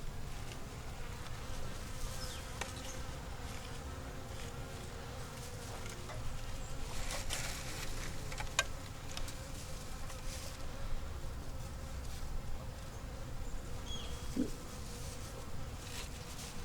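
Honey bees buzz steadily around a small nucleus hive with a young yellow queen, a continuous close, dense hum with faint insect drone throughout and no talking.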